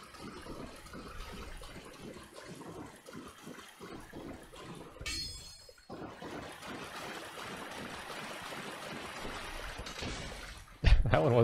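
Splashing, flowing water in the Granny video game, a continuous trickling and rushing wash that briefly drops out midway, then resumes and ends in a sharp loud thump.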